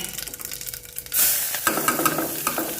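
Cumin seeds dropped into hot oil with the flame turned low burst into a sudden bright, crackling sizzle that holds steady and close, with small pops scattered through it.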